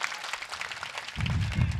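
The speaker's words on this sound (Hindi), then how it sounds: "एक बार ताली बजाकर मुझे अनुमति दीजिए।" Audience applause at a Hindi comedy stage show, starting partway through as a burst of clapping that swells loud and dense and continues to the end.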